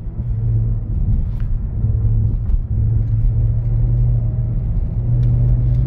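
A BMW car rally-driving over loose snow in winter, its engine giving a loud, steady low rumble with slight surges of throttle and no talk over it.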